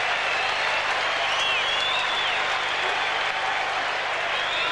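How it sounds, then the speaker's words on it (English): A cricket crowd at an Ashes Test in Australia applauds and cheers a boundary four, a broad sustained roar of clapping with faint whistles rising over it, heard distantly and evenly throughout. "Crowd enjoying that one"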